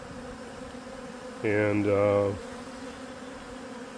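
Many honeybees buzzing around a hive during swarm season, a steady, faint, distant hum with a louder, nearer burst of harmonic buzzing for about a second at mid-clip, likely a bee passing close to the microphone.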